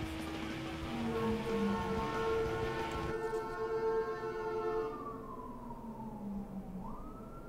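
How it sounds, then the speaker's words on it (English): Fire truck siren passing outside, a rising and falling wail heard over racing game sounds, loud at first and then fading away as it passes. "Must be a fire truck."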